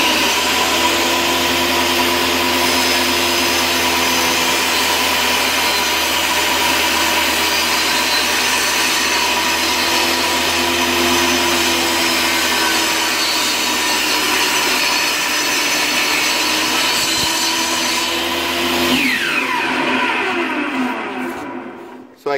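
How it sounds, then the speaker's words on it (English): A saw cuts a 10-degree bevel into a wooden piece for a cradle, giving a loud, continuous whining, buzzing cut that holds steady for about twenty seconds before winding down at the end. "So we're going to cut a 10-degree bevel on the bottom."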